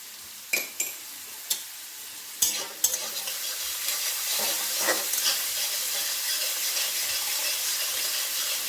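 Mushrooms frying in a pan, a few sharp spoon clacks early on, then a continuous loud sizzle and hiss with stirring scrapes, no talking.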